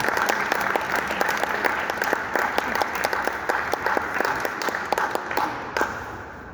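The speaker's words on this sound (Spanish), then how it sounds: "Recibamos, por favor, con un gran aplauso" An audience at a Ministry of Culture talk on the Qhapaq Ñan ancestral roads gives steady, dense applause that runs on evenly from a full room, then tapers slightly at the end.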